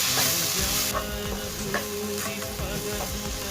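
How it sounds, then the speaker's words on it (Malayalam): Chilli powder, coriander powder and chicken masala are stirred through in a frying pan for masala idiyappam, giving a dense continuous sizzle with rhythmic stirring scrapes close up. "നന്നായിട്ടൊന്ന് മിക്സ് ചെയ്ത് കൊടുക്കാം."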